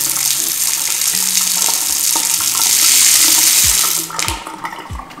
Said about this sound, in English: We, again, went with the Purist tub faucet.